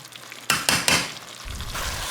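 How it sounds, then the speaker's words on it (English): Shrimp and peppers hitting a hot pot in a shrimp-and-grits dish: three quick clattering bursts of stirring or tossing, then a steady close sizzle that carries to the end, no voices. "Shrimp is cooking nicely."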